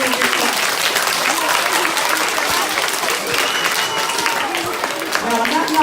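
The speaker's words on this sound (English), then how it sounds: "So give yourselves a really, really big clap." At a college awards ceremony, the audience claps loudly and continuously, a thick, even roar of many hands lasting several seconds with faint voices mixed in.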